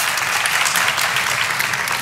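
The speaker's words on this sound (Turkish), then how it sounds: "Alkışlamadınız ya şimdi size." Steady applause from a studio audience at a Turkish television talk show, loud and dense throughout, with no one speaking over it.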